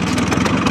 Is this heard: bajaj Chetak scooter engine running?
yes